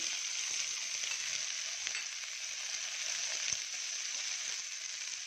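Ivy gourd and onion frying in a pan, a dense, even sizzle holding steady throughout with a few faint ticks, close and continuous with no speech.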